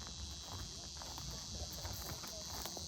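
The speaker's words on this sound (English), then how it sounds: "Cicada, I think. Yeah. And that's what we're hearing too." Cicadas drone outdoors on a farm, a steady high-pitched buzzing held throughout at moderate distance, with soft rustles and light footstep-like taps underneath.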